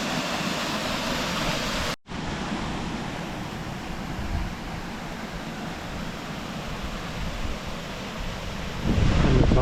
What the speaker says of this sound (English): And the top of the waterfall looking down.